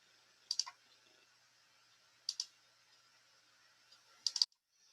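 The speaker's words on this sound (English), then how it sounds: "So I'm going to click on this." A computer mouse clicks three times in a quiet room, each a crisp double click spaced about two seconds apart, close and clear against near silence.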